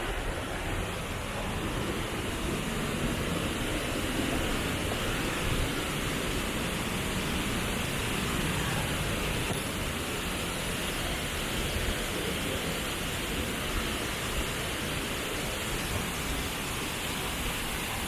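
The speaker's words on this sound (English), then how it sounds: "you will see the big waterfalls" Big waterfalls in Cebu, Philippines pour in a steady, dense roar of falling water, loud and unbroken from start to finish with no voices.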